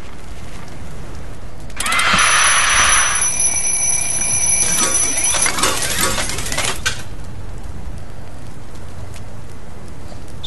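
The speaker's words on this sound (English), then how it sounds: "This is a wind up alarm clock." A wind-up alarm clock rings in the video game Little Inferno, a bright metallic bell trill starting after a short pause and ringing steadily for several seconds, loud and alone, before cutting off into quiet.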